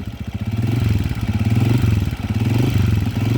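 A Honda TMS 125 De Platino motorcycle converted to 200cc runs close by, its single-cylinder engine chugging with a rough, uneven throb that swells slightly and eases.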